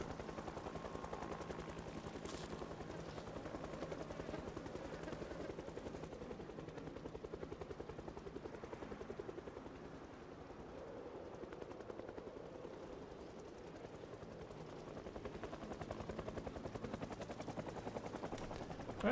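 In a zombie video game, a helicopter drones on continuously while rapid bursts of gunfire crackle through the whole stretch, all at a faint, distant-sounding level.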